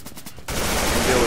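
Pistol fire from a .45 handgun in the tactical shooter game Insurgency, a sudden loud blast that cuts in partway through and rings on as a dense sustained burst of gunfire.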